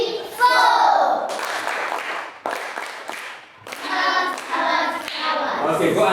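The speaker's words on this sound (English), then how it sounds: "Clap for her." Children in a classroom clap in a short burst of sharp, close hand claps, with young voices chattering over and between them.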